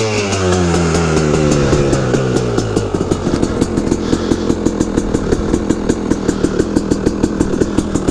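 A KTM 300EXC two-stroke dirt bike engine on choke revs briefly, then settles into a loud, close, rapid popping idle with a sharp regular firing rhythm that continues to the end.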